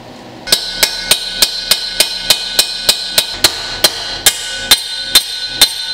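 Steady metallic hammer blows driving a pinion bearing race into a Dana 44 axle, using the old race as a driver: about a dozen sharp ringing strikes at a regular pace, close up, with the tone changing near the end as it seats.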